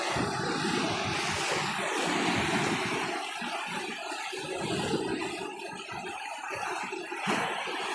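Sea waves out in the middle of the ocean wash and surge continuously, mixed with gusty wind buffeting the microphone at a fairly faint level.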